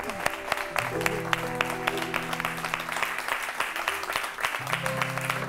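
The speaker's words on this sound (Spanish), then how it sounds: "Fuerte aplauso para ella, para Sonia Monroy. Ese aplauso bien fuerte." TV studio audience applause on a Spanish-language talk show, a moderate steady patter of clapping with sharper individual claps, accompanied by sustained music tones underneath.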